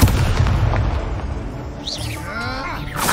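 A Confringo blasting spell goes off in Hogwarts Legacy, a loud rumbling boom that opens abruptly and decays into crackling, whooshing magical effects, all without talking.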